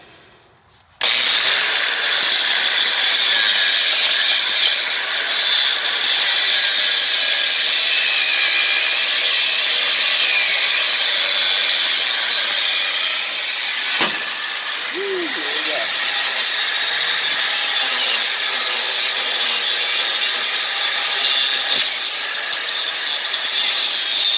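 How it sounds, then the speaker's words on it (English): Steady, loud cutting of steel U-bolts during a 2.5-inch lift kit install on a 1979 Jeep CJ7, a continuous harsh grinding-saw drone that runs unbroken for over twenty seconds after a brief quiet start. "I'm still cutting the U-bolts."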